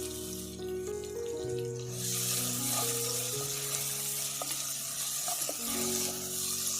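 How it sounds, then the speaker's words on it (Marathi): Chopped onion and green chili dropped into hot oil, with a loud steady sizzle breaking out partway through, hissing broadly alongside low, continuous background tones and no talk. "तेल तापलेलं आहे त्याच्यात कांदा घालूया हिरव्या मिरचीचे तुकडे"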